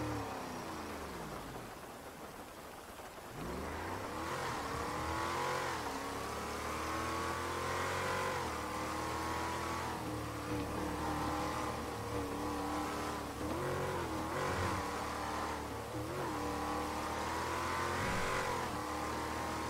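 A fast SUV's engine revs hard and steadily in GTA's NoPixel 4.0 roleplay, with a brief lull before the roar climbs back in. The throttle rises and falls in waves, loud and close throughout, with no talking.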